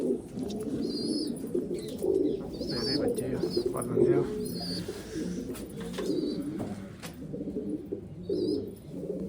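Dabb pigeons coo in a loft among nesting pairs, a steady low rolling murmur of several birds close by, with faint higher chirps, while someone talks over them throughout.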